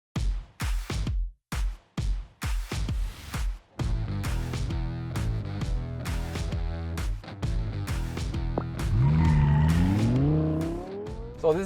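A Volvo XC60 Recharge plug-in hybrid driving, with heavy buffeting at first, then a steady engine tone that rises and sweeps in pitch as it accelerates, loud and close.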